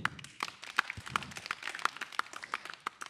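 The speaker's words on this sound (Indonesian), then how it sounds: "Beri tepuk tangan sekali lagi untuk Tamsil" An audience claps at a stand-up comedy show, a sparse, uneven patter of individual hand claps that carries on steadily, close and fairly quiet.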